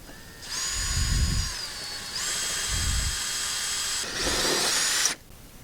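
A power drill drives screws into half door hinges on a Ranger XP1000, three loud, close whirring bursts of motor whine with brief pitch dips as each screw seats, then cutting off.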